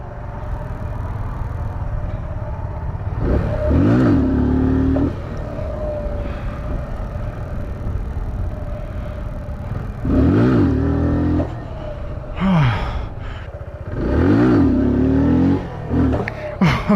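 Motorcycle engine revving hard in repeated bursts while the rider pulls wheelies, three loud rising surges with steady engine drone between them, close to the microphone.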